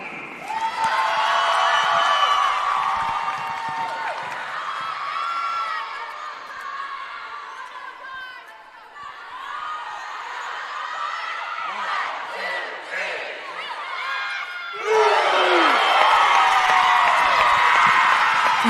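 A crowd at a collegiate gymnastics meet, Limestone versus Coker, cheers and whoops loudly, dipping briefly mid-way before swelling again into a big burst of shouting near the end.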